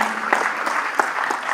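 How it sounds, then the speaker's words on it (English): Audience applause at an industry conference session on the walnut trade, a steady wash of clapping with a few sharper peaks, fairly close and continuous throughout. "Let's give him a warmer round of applause"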